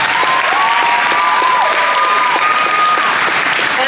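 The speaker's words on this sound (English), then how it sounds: "you might as well stop applauding, for it will never be enough" An audience at a haunted-attraction convention panel applauds loudly and continuously, a dense, even wash of clapping with a few whoops rising above it.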